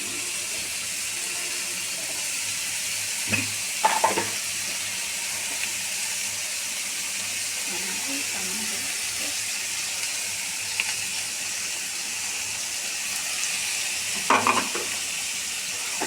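Beef liver with spices sizzles in a pan as it is stirred for a braised liver and potato curry, a steady frying hiss broken by a few louder scraping stirs.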